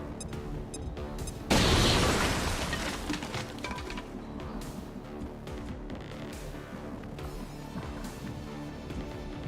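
A frag grenade goes off in XCOM 2, a sudden loud blast whose rumbling debris and crackle fade slowly over several seconds beneath game background sounds.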